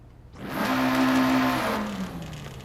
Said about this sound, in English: It's like every bolt on the diffuser is loose.